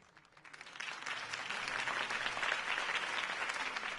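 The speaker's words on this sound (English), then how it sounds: "could have heard that applause" Crowd applause for a mayoral campaign speech in a Batman cartoon, a broad steady wash of clapping that swells in over the first half-second and holds loud and even to the end, with no talk over it.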